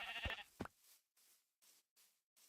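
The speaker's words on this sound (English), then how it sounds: "Okay, so there's the sheep." Minecraft sheep bleat in a game, a couple of short nasal bleats near the start followed by quieter faint game sounds in short bursts.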